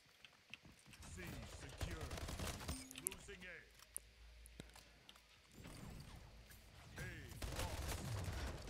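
Automatic rifle fire in the Splitgate arena shooter, sharp bursts of shots mixed with sci-fi weapon and movement effects, moderately loud, while a player talks over parts of it.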